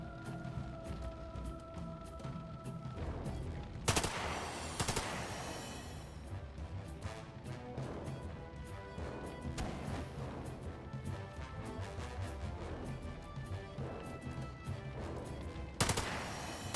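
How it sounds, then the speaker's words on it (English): Gunfire and explosions in a firefight in the video game The Lamplighters League, with repeated sharp shots and heavy crashing blasts, loudest near the start and near the end, with game sounds between. "This is a firefight."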